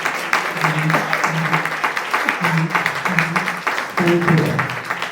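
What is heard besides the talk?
audience applause for the NAACP hosts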